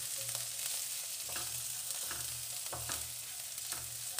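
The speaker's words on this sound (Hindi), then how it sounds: "इसको हम भून लेंगे।" Finely chopped onion frying with toasted cumin in a pan, a steady close hiss of sizzling oil with occasional scraping stir strokes, no voices.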